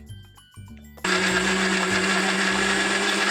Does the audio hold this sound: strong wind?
no